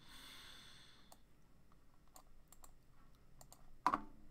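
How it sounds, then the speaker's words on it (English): Sparse keystrokes on a computer keyboard come as scattered light clicks with pauses between, followed by a louder click near the end, with no talk. "So, and just typing that in, here's what came up on my end."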